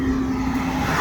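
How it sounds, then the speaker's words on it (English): A truck passing by on a rural road during silage chopping season, a loud close engine rumble with a steady tone, heard alone and briefly. "Got all these trucks going by"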